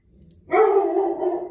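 A single sharp dog bark close by indoors, sudden and loud after near silence, trailing off quickly.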